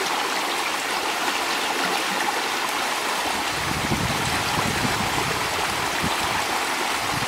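A stream overflow carrying untreated sewage rushes and gurgles in a steady, broad wash of moving water, close and continuous throughout, growing fuller and rougher partway through.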